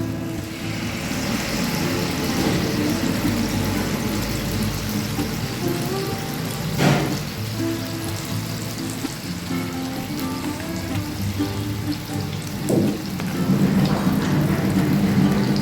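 Capsicum and corn malpoa batter deep-fries in oil over low heat, a dense, steady sizzle and crackle that carries on without break, with a few louder pops rising from the hiss.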